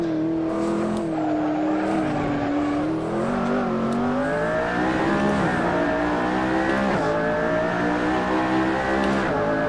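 A McLaren Senna with a seven-speed twin-clutch gearbox and 315-section rear tyres screams around Spa in the Assetto Corsa racing game. The engine roar stays loud and steady, with the pitch climbing and dropping through gear changes and no talking over it.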